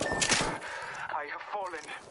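Apex Legends gunfire: a quick burst of shots at the start fades to scattered pops, with a voice talking over much of the clip.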